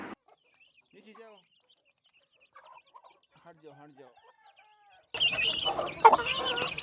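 Faint scattered clucks and chirps from chickens, then a louder burst of clucking with background noise toward the end.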